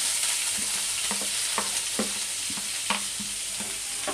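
Chopped onion, mustard seeds, cumin, asafoetida and curry leaves fry in hot oil, a continuous close sizzle broken by regular scraping stirs about every half second.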